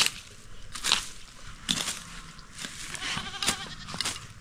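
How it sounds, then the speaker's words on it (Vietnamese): A goat on a small family farm bleats several times in short, separate calls spaced about a second apart, fairly close and clear, with faint background rustling between them. "Ôi một con dê à kia, dê thì vẫn ở kia"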